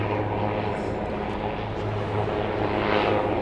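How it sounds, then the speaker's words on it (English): A steady, loud propeller airplane engine at Dallas Love Field airport drones throughout, a low throbbing hum with broadband roar that swells slightly toward the end. "Making a lot of noise for just a propeller."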